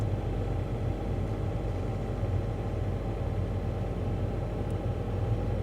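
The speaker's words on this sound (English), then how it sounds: "And then I'm going to release the brake, give it throttle, and then the clutch comes off the rest of the way." A manual-transmission car pulls away and rolls in first gear, with a continuous low engine hum and road rumble at a steady level.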